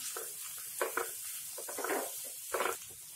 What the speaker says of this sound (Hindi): इसे हम कंटिन्यू स्टर करते रहेंगे क्योंकि फ्लेम अपनी बहुत ही हाई रहती है